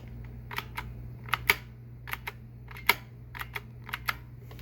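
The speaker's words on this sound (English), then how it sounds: "The on-off switch on these is really fun. It's a cool, really cool spring-loaded button." The spring-loaded on-off switch button on a Hoover Celebrity vacuum gives a series of faint, sharp clicks at irregular intervals over a low steady hum, with no talk.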